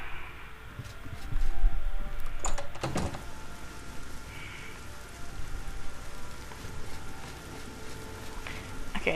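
Steady rain falls in a video game scene, a constant patter across the whole stretch with a few sharper knocks or thuds near the start and scattered faint sounds over it.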